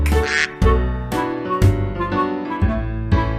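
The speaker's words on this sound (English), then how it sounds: "Oh, there's a duck." A duck quacks repeatedly in a steady run of loud, nasal calls, close up and alone, with a few sharp bursts along the way.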